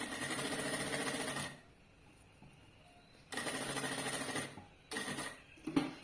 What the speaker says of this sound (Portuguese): Vou aproveitar e vou costurar aqui na lateral o bolso